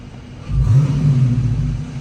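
A 2023 Dodge Challenger R/T engine revs up, a low rumble swelling quickly and holding loud and steady for over a second.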